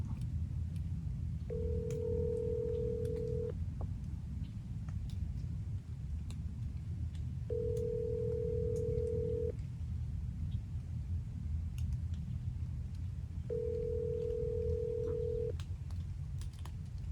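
A phone call rings out on speaker, three evenly spaced ringback tones of about two seconds each, heard over a low outdoor rumble.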